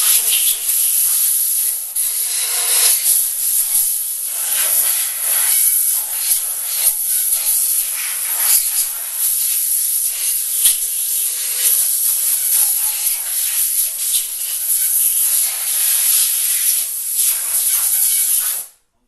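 Compressed air blasts steadily from a small nozzle, blowing sprayed liquid off a part during a 420A performance engine build. The loud, broadband hiss runs almost unbroken for about eighteen seconds, close to the listener, then cuts off abruptly.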